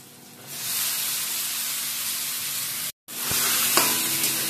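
Bombay duck pieces drop into a hot pan and break into a sudden loud, steady sizzle and hiss. It cuts out briefly, then resumes with a utensil knock, and no one speaks.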